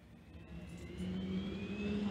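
A Volcano jet dragster's engine, rated over 6,000 pounds of thrust, warms up at a drag strip event, a steady roaring whine that swells after the first second and holds loud.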